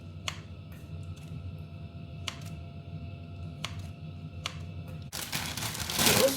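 A knife chops vegetarian gluten into smaller pieces on a board, making a few sharp, separate taps spaced a second or more apart over a low background hum, before a louder rushing noise takes over at the end.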